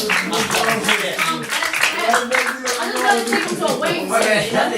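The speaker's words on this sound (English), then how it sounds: "You gotta give him a round of applause for that." A studio audience claps in a sustained round of applause, dense and lively throughout, with a few voices mixed in under the clapping.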